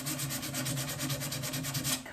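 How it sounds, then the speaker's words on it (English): Hand sanding across a painted wooden tabletop on a century-old dresser, a steady run of rhythmic back-and-forth scratchy strokes, close and fairly loud, with no voices. "I'm stuck hand sanding"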